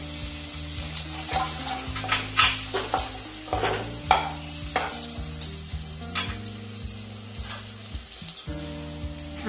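Masala spices with ground powder frying in a pan for a Bengali aar fish curry, stirred with repeated scraping strokes over a lively sizzle, close and steady without voices.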